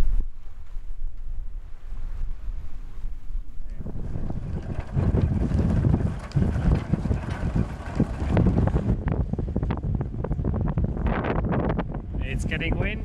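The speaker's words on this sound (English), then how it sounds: "It's getting windy" Strong wind buffets the microphone in heavy gusts while sailing the Northwest Passage, a low roaring rumble that builds after a few seconds and keeps blowing, with water sounds beneath.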